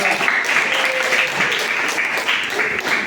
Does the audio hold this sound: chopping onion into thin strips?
no